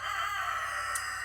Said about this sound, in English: If you hear roosters and chickens, it's because I have the back door up into the kitchen and there's a chicken pen right back there.